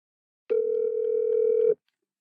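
A steady telephone dial tone sounds for just over a second while a call is being placed during a podcast, loud and clean, starting and stopping abruptly with silence around it.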